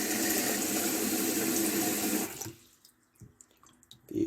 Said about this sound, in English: And I put a bit of cold water in the bowl.